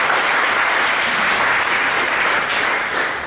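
Dense, loud audience applause at a conference talk on running coreboot on an ARM Chromebook, sustained clapping from a large crowd that fades slightly at the end.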